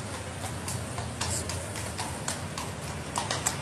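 A horse charges toward the recorder: steady clip-clop of hooves pounding on the ground in a quick rhythm, fairly close, over a noisy outdoor background.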